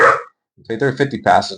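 A dog barks a few times close by, partly overlapping someone speaking in a home recording setup.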